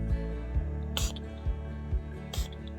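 A Catrice setting spray bottle gives two quick, sharp hissing spritzes about a second and a half apart, heard over a steady, rhythmic low thumping in the background.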